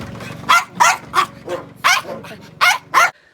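Several mixed-breed yard dogs in a Kyiv-region village bark loudly and close by, a rapid string of about eight sharp barks that stops abruptly, with speech beneath.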